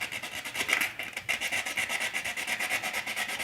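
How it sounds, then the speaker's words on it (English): Sandpaper rubs back and forth over a 1/4 scale Spiderman statue in steady, rhythmic rasping strokes, close and fairly loud, continuing without pause. "So today is all about sanding and getting this as smooth as I can"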